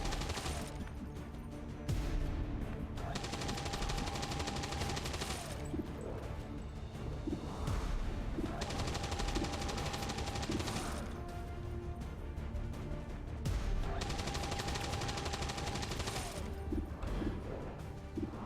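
Gunfire from the turn-based strategy game Long War 2, with loud broadband bursts arriving in three long repeated blocks over continuous game sound and no talking.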